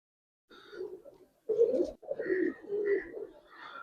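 Giribaz pigeons in a collection, soft close cooing in several short throaty bursts with brief gaps between, calm and fairly quiet.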